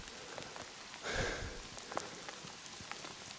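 Rain falls steadily on surfaces around an abandoned ghost town building in Finland, Minnesota, a faint, even patter with a brief louder gust of hiss and a few sharper drips.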